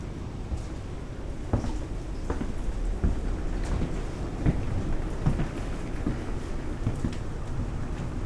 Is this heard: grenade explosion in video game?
no